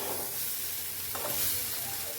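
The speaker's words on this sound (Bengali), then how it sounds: "এবার আলুগুলো সেদ্ধ হয়ে গেলে ভাজা ভাজা করে নামিয়ে নেব।" Potatoes frying in a pan, giving a steady close sizzle and hiss with a brief stirring scrape partway through, and no voices.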